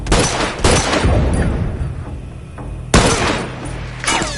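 Shotgun blasts boom in The Last of Us multiplayer: two loud, close reports about three seconds apart, set against constant noisy battle ambience.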